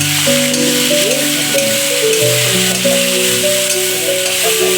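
Onion, garlic and ginger sizzling steadily in a pan, a loud continuous close-up fry with a soft tonal hum running under it and no talk.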